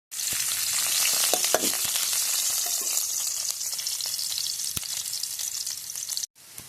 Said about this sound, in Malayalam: മുളകിട്ട കറിക്കൊക്കെ ചെറിയുള്ളി വറവിട്ടാൽ നല്ല ടേസ്റ്റ് ഉണ്ടാവും.